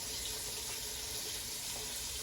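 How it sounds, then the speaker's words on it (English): Water runs steadily from a tap or jug over beans in a pressure cooker, a constant soft splashing hiss at low level with no voices. "Add a little bit of water."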